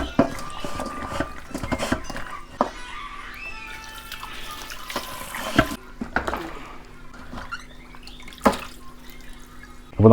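Water splashes and drips irregularly while chicken pieces are washed with salt at a kitchen sink, with clattering handling noises and occasional louder bursts.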